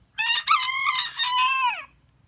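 A single loud rooster crow, close by, rising and holding before trailing off, with quiet background afterward.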